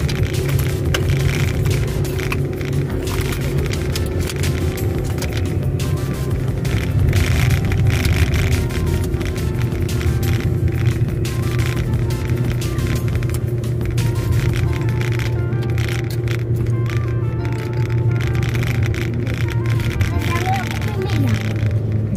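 Mitsubishi Xpander with a manual gearbox pulls up a steep hill in first gear at about 3000 rpm, giving a steady, continuous engine drone with road and cabin noise throughout, and people talk over it.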